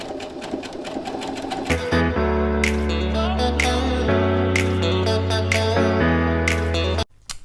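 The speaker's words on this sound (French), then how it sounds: "je la replante dans l'appliqué, dans la précédente couture et je continue" A sewing machine stitches an appliqué onto a decorative banner, running in loud, close bursts of rapid, buzzing stitching with brief pauses between runs, then stopping near the end.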